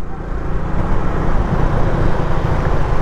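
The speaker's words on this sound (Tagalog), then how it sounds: "Lakas ng makina niya." A Honda Smash motorcycle engine nearly ten years old drones steadily while being ridden, a loud, continuous low hum mixed with road and wind rush, no speech.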